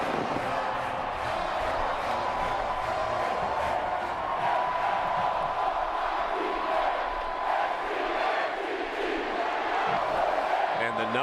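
Sellout stadium crowd in Tallahassee roaring for the Florida State Seminoles football team taking the field, a dense, sustained wall of cheering and whooping that swells in waves throughout.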